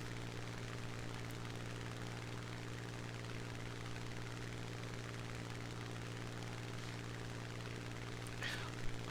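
World War II airplanes drone steadily with a continuous engine and propeller hum in a simulator battle video game, even and unbroken throughout, with a brief faint blip near the end.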